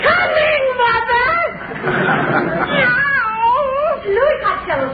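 A cat meows and wails repeatedly in a long, wavering caterwaul, a comic radio sound effect for a poked cat in a 1945 Christmas party show, loud and close with voices talking over parts of it.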